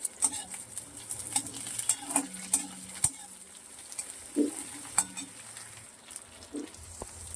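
Onion and capsicum frying in a pan, a low steady sizzle broken by repeated spatula scrapes and clicks from stirring, close and without talk.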